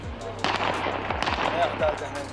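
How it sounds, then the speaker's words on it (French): Gunfire aimed at protesters pops in a handful of sharp, spaced shots over a murmuring crowd, moderately distant, with voices blended into the background. "Voilà, vous entendez ces coups de feu."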